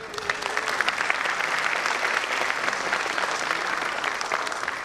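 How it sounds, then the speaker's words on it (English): Steady, dense audience applause at a school annual day celebration for Little Millennium Kondwa, a continuous wash of many hands clapping at even loudness throughout, with no talk. "Let's start with a huge round of applause."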